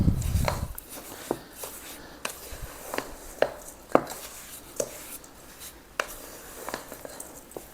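Nanaimo bar base ingredients being mixed in a bowl, a series of soft irregular knocks and scrapes of a utensil against the bowl, quiet and close with a low background hush.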